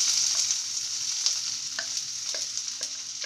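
Chopped onion, garlic, ginger and green chili fry in a hot pan with a constant, bright sizzle, punctuated by light spoon clicks and scrapes up close.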